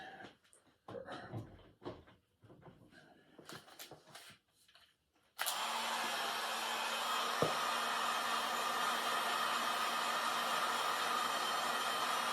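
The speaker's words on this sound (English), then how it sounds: "So now I need my heat gun." A heat gun blows steadily over plastic wrap on a DIY costume breathing apparatus, starting abruptly after quiet handling noises and holding a loud, even airy roar to the end.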